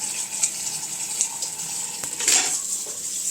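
Running tap water pours over a freshly processed quail in a sink, a continuous splashing rush with a few light clinks and a brief louder gush near the end.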